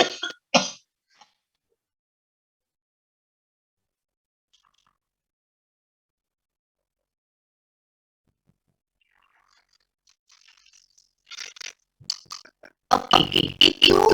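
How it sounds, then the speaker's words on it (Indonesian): A lecturer gives a short, harsh cough-like throat clearing, followed by long silence and then a few more rough bursts close to the microphone. "Nah, saya batuk lagi."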